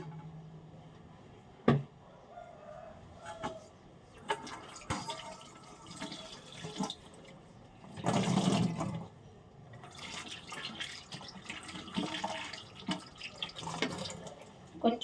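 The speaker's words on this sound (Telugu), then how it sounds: "కొంచెం వాటర్ వేసుకుని" Water goes into a pot in a home kitchen in short, uneven bursts, with one fuller gush midway and scattered drips and clinks around it, close and fairly quiet.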